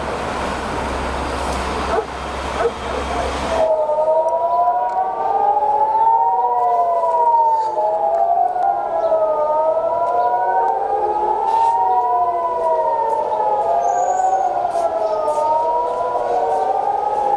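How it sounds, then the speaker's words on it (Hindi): A loud air raid siren wails in long rising and falling tones during a missile attack warning in Israel, continuous and close, after a few seconds of noisy rumbling background. "वो सायरन सुनिए"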